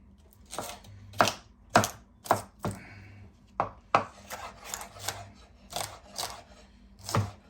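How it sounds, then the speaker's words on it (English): A knife chops vegetables on a board in about a dozen sharp, close strokes, spaced irregularly with short pauses, in a quiet kitchen with no talking. "not too finely chopped, otherwise it will disintegrate when you're cooking it"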